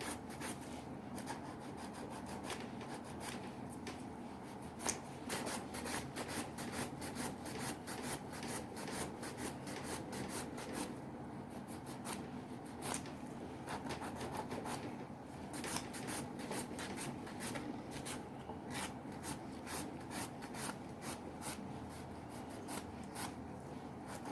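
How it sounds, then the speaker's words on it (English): A low-grade nail buffer rubs across a fingernail during a manicure, a faint, close, continuous scratchy rasping with quick irregular strokes and no talking. "And you see this buffer, you can see that it's a low grade because it's not taking off the nail bed, it's actually just buffing it by smoothing it."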